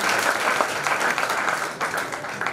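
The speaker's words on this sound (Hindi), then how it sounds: "जोरदार तालियों से स्वागत कीजिए कृष्णा साहू का।" Enthusiastic audience clapping at a college theatrical presentation on legal literacy and women's empowerment, welcoming a performer with a thick, continuous roar of hands that stays loud and close throughout.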